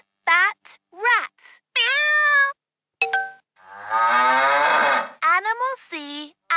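Cow moo from a 2017 UK-version VTech Touch & Teach toy tablet: a single synthetic electronic lowing call in the middle, framed by a clear recorded voice speaking before and after.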